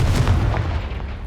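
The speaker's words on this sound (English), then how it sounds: "Confringo!" A Confringo explosive spell blasts apart a pile of debris in Hogwarts Legacy, giving one short, heavy boom with a dense low rumble that fades over about a second, alone with no voices.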